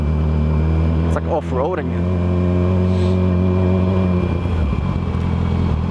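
A car engine pulls steadily under a little throttle on a terrible, rough road, a loud constant drone from inside the cabin with a brief rising whine early on while someone talks throughout.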